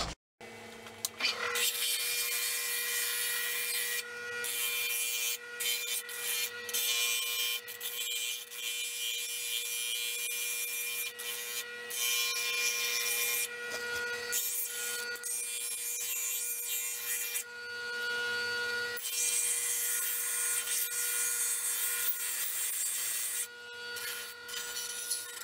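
Grinding on the engine of an old Honda 250 trials bike: a continuous close, harsh abrasive whir with steady tones, briefly stopping and restarting several times over the stretch, with no talking.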